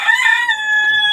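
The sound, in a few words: rooster crowing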